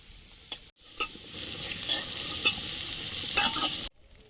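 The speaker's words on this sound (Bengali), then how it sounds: "আলুগুলো ভাজা হয়েছে তুলে নেব" Steady, close sizzle of food frying in hot oil, broken by a few sharp scrapes and clicks of a spatula stirring.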